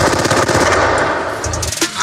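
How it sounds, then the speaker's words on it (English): Loud, rapid bursts of automatic gunfire, a continuous rattling stream of shots at close range with no voices. "That is gunfire from what appears to be an automatic weapon."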